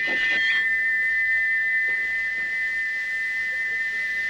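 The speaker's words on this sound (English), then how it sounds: "Still whistling, Gordon puffed sadly away." A steady, piercing whistle holds one high pitch without a break, loud and continuous, with a brief rougher burst at the start.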